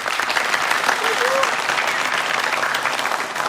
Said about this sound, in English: Big applause to our moderator.